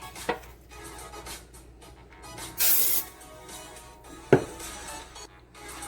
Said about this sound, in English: I'm gonna use this vegetable oil spray to spray the pan